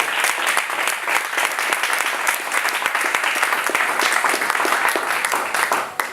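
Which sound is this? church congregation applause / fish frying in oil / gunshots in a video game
church congregation applause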